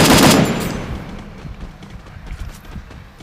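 Rapid gunfire in a video game, a loud burst of shots at the start that fades into scattered quieter pops and clatter.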